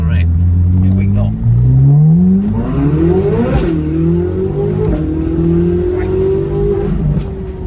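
A Corvette Z06's big 5.5-litre V8 in track mode, heard from inside the cabin with the roof down, rising through loud, climbing revs with a sharp crack and a sustained rasping note, close and dominant throughout.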